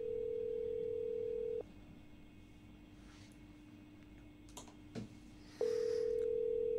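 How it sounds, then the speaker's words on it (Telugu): Telephone dial tone on a radio show call, a steady tone sounding alone for about a second and a half, dropping away into quiet line hiss, then returning at the end, with a couple of faint clicks between. "వెళ్ళి ఇక బెన్ ఫోన్ లిఫ్ట్ చేయట్లేదు, సో మళ్ళీ ఒక్కసారి ప్రయత్నిద్దాం."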